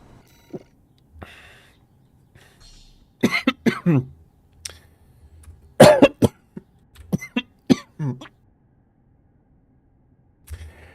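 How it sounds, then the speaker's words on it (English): Harsh, close coughs come in an irregular fit of sharp bursts, some clustered and some isolated, with quiet gaps between them. "I had a bit of a coughing fit"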